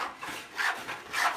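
A marker or pencil scraped along the edge of a wooden squirrel guard for a bird feeder, marking a half-inch line around the perimeter: soft, close rubbing strokes in a few uneven passes, with no talk.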